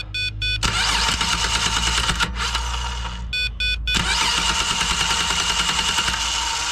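A car engine cranks repeatedly without catching: several loud bursts of rapid starter churning separated by brief pauses, each attempt ending without the engine firing, up close and with no talk.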